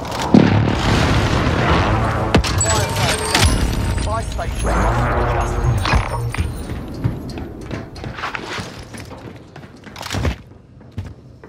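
Precision airstrike explosions boom and thud in a battle royale shooter game, a run of heavy blasts with sharp pops including a loud burst near the end, with players talking over them.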